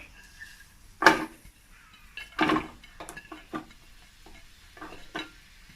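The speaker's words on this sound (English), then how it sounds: "Add the onion into the hot oil." Chopped onion drops into hot oil for jollof rice, giving a few short bursts of sizzling and pan clatter with quiet gaps between them, close by and with no talking.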